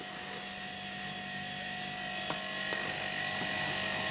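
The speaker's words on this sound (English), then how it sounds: "Just waiting for the air compressor to top itself back up." An air compressor runs steadily as it tops its tank back up in a workshop, a continuous mechanical drone with a few faint clicks partway through.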